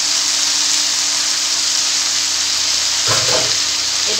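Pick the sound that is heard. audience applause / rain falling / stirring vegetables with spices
stirring vegetables with spices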